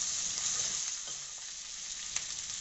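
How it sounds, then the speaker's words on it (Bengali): Capsicum and onions frying in a hot wok, a steady loud sizzle with faint scraping stirs throughout, no voices. "এবার কড়াইতে ক্যাপসিকামগুলো দিয়ে ভালো করে এবার ক্যাপসিকাম আর পেঁয়াজগুলো নাড়াতে থাকলাম।"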